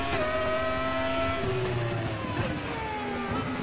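FRX-17 race car in RaceRoom at Spa, engine wailing loud and close with gliding pitch as it shifts and pulls toward the finish line, with layered engine tones throughout.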